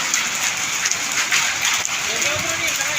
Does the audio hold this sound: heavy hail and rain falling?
yes